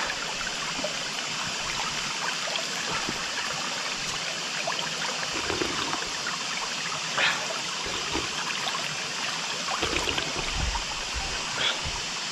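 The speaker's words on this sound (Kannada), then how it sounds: "ನೋಡಿ ನೀರು ಹೆಂಗೆ ಹರಿತಾ ಇದೆ ಅಂತ, ಫುಲ್ ಪ್ಯೂರ್ ವಾಟರ್" Water in a mountain stream on the Kumara Parvatha trek flows in a continuous, close rush with small splashes and trickles, and no voices over it.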